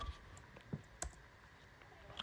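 Computer keyboard keys are pressed a few times, sparse faint clicks at irregular intervals while navigating an Asus BIOS (UEFI) utility, against a quiet background hiss.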